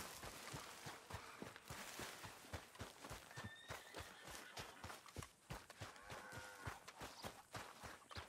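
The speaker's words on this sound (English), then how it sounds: "Why am I hearing farm noises but not seeing farm?" Rhythmic hoofbeats of a horse moving at a steady pace, evenly spaced thuds with faint background noise and a brief high squeal midway.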